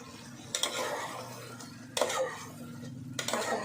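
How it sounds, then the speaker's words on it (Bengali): Capsicum and onion for soya Manchurian are stirred in a pan over low heat: three separate bursts of spoon scraping and metal clatter, close by, with quiet gaps between them. "নেড়ে দিচ্ছি।"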